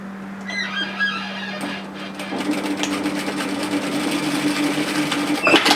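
A sewing machine stitches the facing of a bomber-style varsity jacket onto the bottom of the band. A low motor hum runs throughout, and a rapid, steady run of stitching starts about two seconds in and continues up close to the end.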